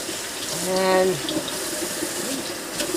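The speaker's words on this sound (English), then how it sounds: "So, I will wash my hands, wash this strainer, warm soapy water, right?" Warm water runs from a kitchen tap while hands and a strainer are washed, a steady splashing flow with a brief rising fill tone early on and a short spoken word.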